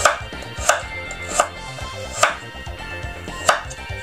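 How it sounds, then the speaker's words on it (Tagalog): Carrots being sliced with a knife on a board, five firm chops spaced unevenly about every second, close and crisp with no talk. "Hiniwa ko lang po yan ng ganyan."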